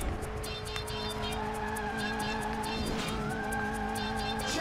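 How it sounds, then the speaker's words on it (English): Arcade kart-racing game engine drone with a sustained whining tire-squeal drift tone, steady and loud throughout with brief pitch shifts, in Sonic & All-Stars Racing Transformed. "I don't know if I like that drift noise."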